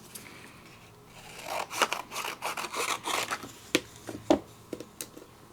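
A plastic cutting plate is cut down with a close, quiet scraping and crunching that builds in short strokes, ending in a few sharp snips and clicks.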